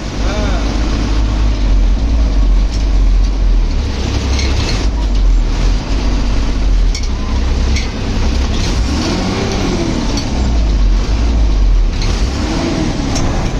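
An MSRTC Hirkani bus pulls away, its loud steady engine rumble and road noise filling the cabin continuously with faint voices in the background.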